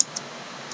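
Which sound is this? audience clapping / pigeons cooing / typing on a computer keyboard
typing on a computer keyboard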